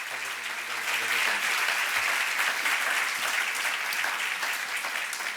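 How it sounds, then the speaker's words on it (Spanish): A large audience at a talk on perception breaks into loud, sustained applause, a dense even roar of many hands clapping throughout with no voices over it. "Por favor, un fuerte aplauso para Aldo Linares."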